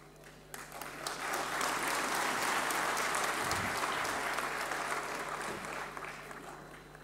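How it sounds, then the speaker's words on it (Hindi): Sustained applause from an audience at an award ceremony in Delhi, steady and broad, rising after a moment and holding at a moderate level from a distance. "मेरे बोलने पर आप तालियां बजा रहे हैं"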